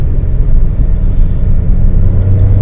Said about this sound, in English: I'm going to upshift. My RPMs are going to lower.